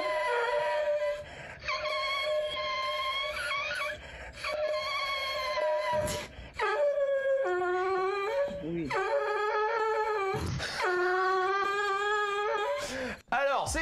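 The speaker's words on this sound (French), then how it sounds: "C'est un chien." A dog howls and whimpers in a run of long, high, wavering cries broken by short yelps and gaps, loud and close, played as the sound to be guessed in a game.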